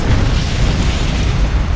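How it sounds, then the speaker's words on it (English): A car blows up in a loud, sustained explosion, a dense rumbling roar that fills the moment with no voices. "The car explosion is awesome."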